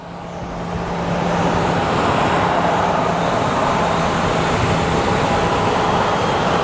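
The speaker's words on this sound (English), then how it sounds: "the flight that just passed through going to San Diego" A passenger jet at Phoenix Sky Harbor Airport makes a loud, steady engine roar that swells over the first second and then holds, with no talking.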